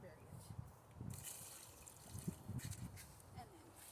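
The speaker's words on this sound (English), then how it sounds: "I put that much water and then bury it." Water poured from a container into a small hole dug in garden soil for planting sunflower seeds, giving soft, faint splashing and trickling bursts in a quiet outdoor setting.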